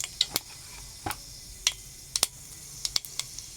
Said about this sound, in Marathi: आपलं तडतडलं आहे राई जिरं